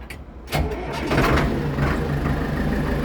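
A Solis 105 tractor engine starts with a quick crank and catches, then settles into a steady, fairly loud diesel idle heard from inside the cab.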